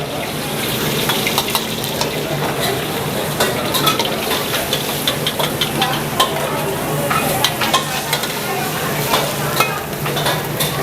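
Village-style nasi goreng kampung is stir-fried four portions at a time in a busy Lebaran kitchen: a constant sizzle with repeated scraping, clinking stirs of the spatula against the pan, close up and loud, with faint background murmur.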